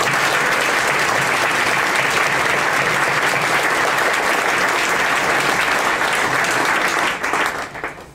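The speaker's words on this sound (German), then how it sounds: "ich denke, die haben Applaus verdient" Audience applauding in a hall at a Volkshochschule Offenbach centenary event, a dense loud sustained clapping that carries on evenly before tapering off at the end.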